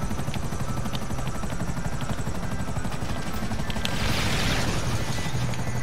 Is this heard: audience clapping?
no